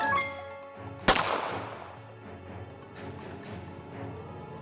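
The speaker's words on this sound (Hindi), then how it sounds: "बुलेट बस मेहुल को लगने ही वाली थी" A single sharp gunshot cracks out loud and close in an animated story, its bright burst fading into a decaying ring over a quiet background.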